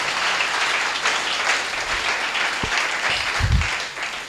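A church congregation applauds at a service, with steady dense clapping throughout, fairly loud and close, and a few low thumps near the end.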